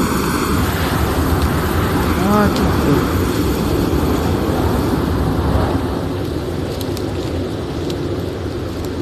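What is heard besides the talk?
airplane flying overhead, from video game Sons of the Forest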